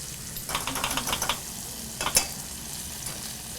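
Dijon mustard stirred into a sizzling pan, a tablespoon or more added: two bursts of scraping, clicking stir strokes over a low, steady sizzle, close and fairly quiet, with no talk.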